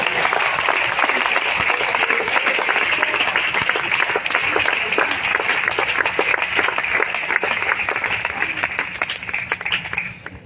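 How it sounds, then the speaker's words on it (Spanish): A church congregation applauds, with dense, continuous clapping from many hands that holds steady and loud for about ten seconds before tapering slightly at the end. "Dile un aplauso a Cristo si puede hacerlo."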